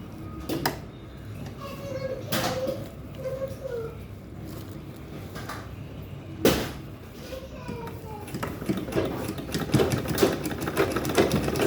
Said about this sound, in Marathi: इकडून आपण असं स्टिच करून घेऊ